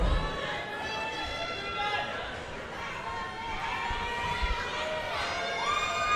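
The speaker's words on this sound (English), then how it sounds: "David has quite the crowd behind him as well." Spectators at a drug-tested national powerlifting championship cheer and shout through a deadlift attempt, with sustained yelling and whoops from many voices over steady crowd noise and an announcer's voice.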